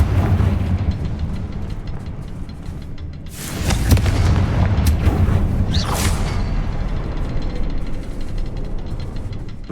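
A Confringo blasting curse erupts in Hogwarts Legacy: a heavy boom with a whooshing burst and crackling debris, rising out of a constant low game rumble and fading into sustained noise, with no voices.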